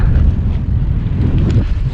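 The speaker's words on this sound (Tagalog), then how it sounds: "grabe lakas ang hangin" Steady, roaring wind in Burgos buffets the microphone with low rumbling gusts, loud and continuous throughout with no voices.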